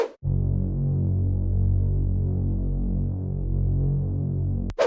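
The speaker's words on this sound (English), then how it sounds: "For the intro, add a powerful Reese bass." A deep, throbbing Reese bass synth holds a sustained low note with a slow wobbling pulse, loud and alone, cutting off abruptly at the end.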